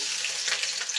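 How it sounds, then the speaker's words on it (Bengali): A dried red chili and whole black cumin seeds frying in hot oil, giving a soft, continuous sizzle and crackle heard up close with no voices. "এখন দিয়ে দেব একটা শুকনো মরিচ, গোটা কালো জিরে, একটু ভেজে নিচ্ছি।"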